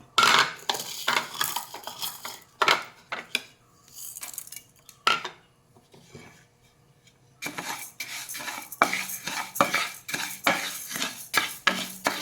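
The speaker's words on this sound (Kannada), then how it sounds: "ಈಗ ಅಕ್ಕಿ ಮತ್ತು ಹೆಸರುಬೇಳೆಯನ್ನು ಸ್ವಲ್ಪ ಹುರಿದುಕೊಳ್ಳುವ." Rice and moong dal dry-roasting in a pan while a utensil stirs them: close, clattering scrapes and clinks come in rhythmic bursts, with a quieter stretch in the middle and no talk.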